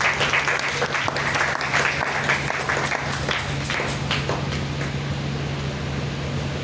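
A church congregation applauds continuously through a Thursday worship service, a steady, dense wash of clapping with a low hum running underneath.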